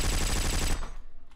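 A short burst of rapid automatic gunfire from the online shooter War Trigger 2, a dense, steady rattle lasting under a second before cutting off into quieter decay.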